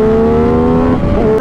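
A sport motorcycle at a Sunday morning ride with bikes such as a Kawasaki ZX10R, ZX636, Yamaha R6 and MV Agusta, its engine revving loud and close with a steady rising, shifting tone.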